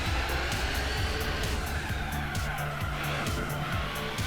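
Race car in Gran Turismo 4 understeering through corners, its tires squealing in repeated drawn-out slides over a loud, steady engine drone.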